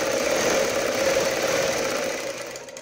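A sewing machine runs steadily, stitching a folded fabric strip for a kurti sleeve. It gives a close, even mechanical whir for about three seconds with no talking.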